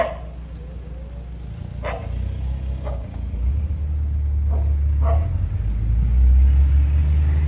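Car rumbling steadily along the road with low engine and road noise, a few brief sharp knocks or yaps cutting in now and then, no talk.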